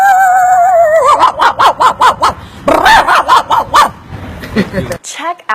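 A man mimics a dog's barking with his mouth, giving a rapid run of sharp, loud woofs in two bursts after a whining lead-in, close to the listener, with a short exclamation at the end.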